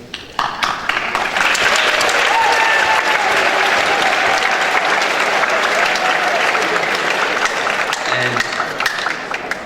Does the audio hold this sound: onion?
no